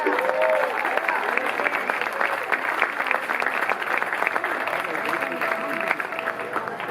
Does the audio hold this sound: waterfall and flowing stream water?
no